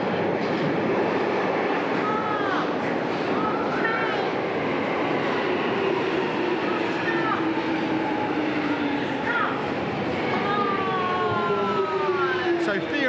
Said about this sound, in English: So theoretically, Lucy should be on this train.